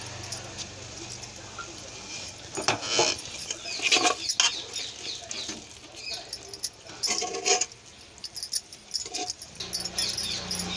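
A spoon scrapes and clinks against a pan as freshly made kalakand sweet is served onto a plate, with irregular close metallic scrapes and taps that come in bursts over a low background hum.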